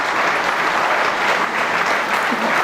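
A snooker World Championship crowd applauds during Murphy versus O'Sullivan, the dense, continuous clapping filling the whole stretch at a steady, fairly loud level with no speech over it.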